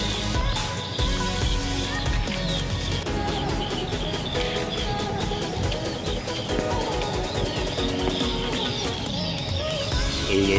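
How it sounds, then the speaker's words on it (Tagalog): Many birds crowded onto a boat calling noisily, a loud continuous jumble of clucking and cooing calls with sharp repeated clicks and knocks over constant background noise. "Ingay ng mga ibon guys."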